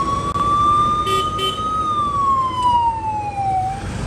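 A fire engine siren wails loud and steady as the fire brigade arrives at a smoke-filled building, its long tone slowly rising and falling over road noise.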